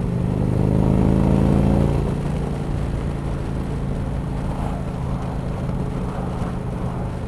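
An Indian motorcycle fitted with a Stage 1 exhaust rides along at steady speed, its engine a loud continuous drone that eases slightly after the first couple of seconds, mixed with wind rush.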